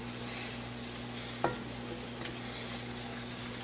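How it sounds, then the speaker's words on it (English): Canned corn frying in bacon grease, a steady close sizzle with a low electrical hum beneath and a couple of brief clicks from stirring. "So now we're going to let the corn, since it's canned and cooked already, it probably will only take about a minute or 2 minutes to fry it up good."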